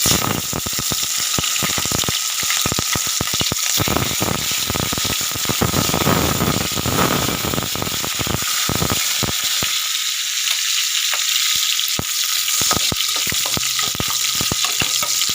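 Green chillies and curry leaves fry in hot oil with a steady, dense sizzle and crackle, loud and close, broken by occasional sharp pops and a stirring rattle; no one speaks.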